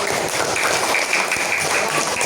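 Schoolchildren in a classroom clap for a student group, a dense, continuous patter of many hands that holds at an even loudness throughout.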